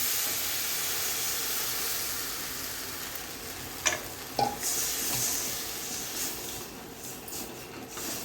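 A besan and curd mixture goes into a hot pot for katil prasad and is stirred. A steady hiss and sizzle fills the clip, broken by a couple of sharp scraping clicks midway.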